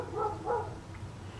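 A dog barking indoors: two or three short, moderately loud barks close together near the start, then quieter room sound and a brief sharp noise at the end.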